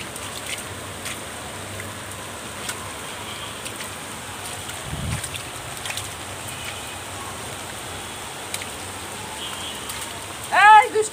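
Steady rain patters on surfaces outdoors as a playful child gets soaked, a continuous soft hiss with scattered drips and a brief louder splash near the end; faint voices sit beneath it.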